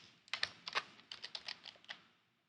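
Quick bursts of keystrokes on a computer keyboard as a token website address is typed, light close clicks in short uneven runs that trail off, no talking.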